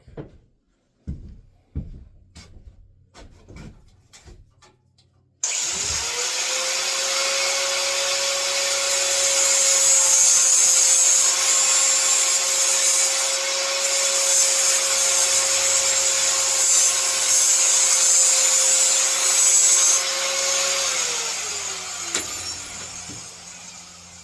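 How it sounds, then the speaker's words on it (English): A bandsaw cutting brass for a knife sheath starts after a few scattered knocks, then runs for about fifteen seconds with a loud, steady high whine and grinding screech before spinning down. "My bandsaw doesn't like it when I cut brass in it."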